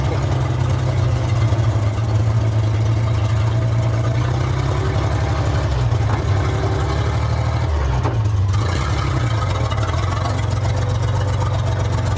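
A 1947 International KB3 truck engine runs loud and steady, a low, throbbing idle that holds for the whole stretch, with a brief dip and shift in pitch partway through and no voices.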